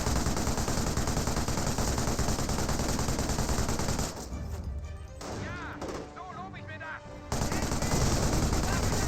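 Dense, continuous machine-gun fire and battle noise from Company of Heroes, with German and Allied infantry fighting over a point. It pauses briefly mid-clip as a voice talks, then the rapid firing resumes.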